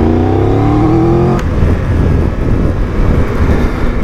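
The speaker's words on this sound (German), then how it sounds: "Der Motor ist agil, unglaublich," A Triumph Tiger 1200 Rally Explorer motorcycle with a 150 hp engine revs up loudly and close, its pitch climbing for over a second before it settles into a rough, steady engine rumble.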